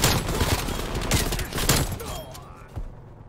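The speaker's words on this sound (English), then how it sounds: "Oh, it's a decoy grenade." A decoy grenade in Black Ops Cold War gives off a dense, continuous crackle of fake gunfire that sounds like a fusillade, loud at first and then thinning out near the end.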